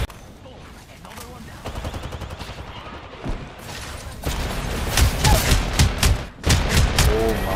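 Rapid automatic gunfire from Apex Legends on PS5 rattles in repeated bursts, growing louder and denser toward the end, with players talking over the shooting.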